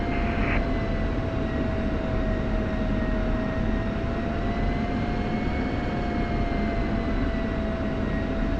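An F-16 taxis in the DCS World flight simulator, a loud, steady, unbroken jet engine drone with a constant whine, close and alone, with no voices.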